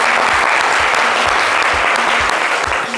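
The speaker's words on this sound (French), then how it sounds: "Applaudissez-la bien fort, s'il vous plaît." A live audience at a French-language daytime TV show applauds loudly and continuously, a dense, even wash of clapping close by with no pauses.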